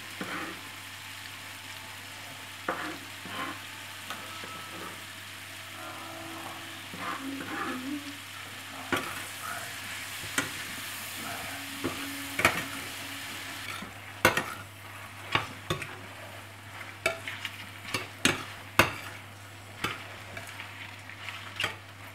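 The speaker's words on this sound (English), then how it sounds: "Now we're gonna add the shallots, okay? Here are the shallots." Shallots fry in a pan for pork tenderloin in a creamy sauce, a faint steady sizzle broken by repeated scraping and clinking stirs that grow more frequent toward the end.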